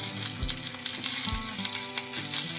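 Dried red chillies and curry leaves sizzle and crackle steadily in hot oil while being stirred, a close, continuous frying hiss for a cucumber chutney, with no voices.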